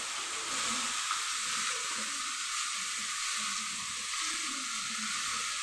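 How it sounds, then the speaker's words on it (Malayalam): Mustard seeds crackle in hot oil while tempering for a kodootha leaf thoran, a steady close sizzling hiss with faint scattered pops and no voices. "കടുക് പൊട്ടിക്കഴിഞ്ഞ് നമുക്ക് വറവ്"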